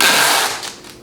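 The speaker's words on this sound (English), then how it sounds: "I might do a piece of tape across here" A strip of packing tape pulled quickly across a shipping package, a short ripping, crackling burst that is loud at first and then trails off within about a second.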